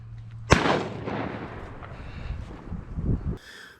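A single loud shotgun blast fired at ducks during a snowy duck hunt cracks out sharply and booms, then rolls away amid wind noise and outdoor rumble, with no talking.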